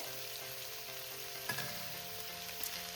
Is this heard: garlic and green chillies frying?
yes